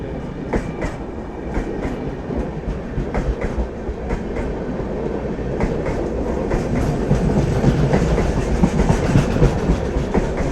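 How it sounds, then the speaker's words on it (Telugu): Tirumala Express running past its AC coaches, wheels beating a steady, loud clickety-clack rhythm on the rails throughout, with no voices. "ఆల్వేస్ డిమాండ్ ట్రైన్ ఇది, హై డిమాండ్ ట్రైన్."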